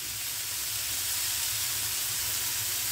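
Broccoli roasts on a tawa over a high flame, giving off a loud, steady sizzling hiss that stays even and close from start to finish with no talking.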